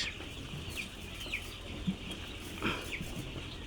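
A chicken held for beak trimming gives short scattered clucks and squawks close by over a busy farmyard background.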